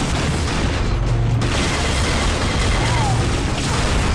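Rocket explosions in the video game Unreal Tournament on a ship deck map, a continuous dense barrage of booms and bursts with steady loud rumble throughout, heavy overlapping blasts with no clear gaps.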